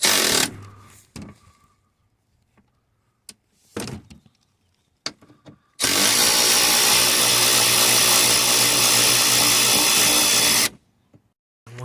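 A power tool zips out 10mm bolts on a Vauxhall Zafira B 1.9 CDTi during alternator replacement. Several short sharp bursts come first, then one long, steady, loud whir that lasts about five seconds before stopping.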